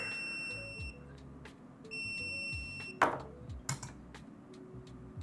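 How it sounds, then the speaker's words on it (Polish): A Sunlu filament connector gives a few short electronic beeps on reaching its target temperature, over a low background hum, with some clicks and knocks in between. "O, coś piknęło, czy mi się wydawało?"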